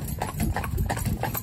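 A driven stallion's hooves clip-clop on a hard surface in a quick, even rhythm, close and clear, with harness and cart noise faintly underneath.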